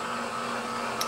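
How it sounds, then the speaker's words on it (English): An Epson-based M2 direct-to-garment printer hums steadily through its head cleaning cycle, a faint, even mechanical drone with a tiny high click near the end. "A typical head cleaning will take about 2 minutes."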